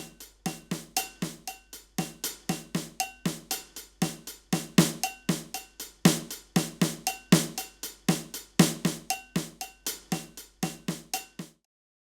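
Clicks from the PolyNome metronome app tick in a steady, even pulse with every fifth note accented, bright and close with nothing else in the background.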